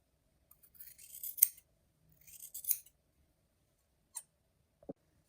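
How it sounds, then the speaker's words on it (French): Fabric shears snip through two layers of bias binding and one layer of garment fabric, with two crisp multi-stroke cutting bursts followed by a couple of short isolated clicks in an otherwise quiet room. "Je coupe dans les 3 couches, hein, les 2 couches de biais et une couche de vêtements."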